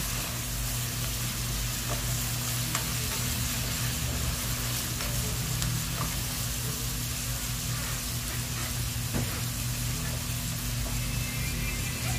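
Pancit canton noodles frying in a pan with patis added, a steady, dense sizzle running throughout, with occasional faint clicks of the noodles being tossed and mixed, close and continuous with no voices.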